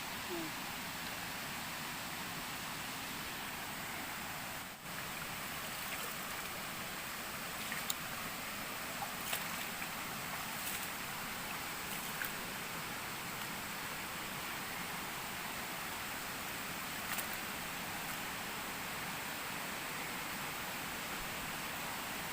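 Steady broadband rush of flowing water along a waterway in the open, a continuous even wash heard near and alone, with a few faint clicks scattered through it.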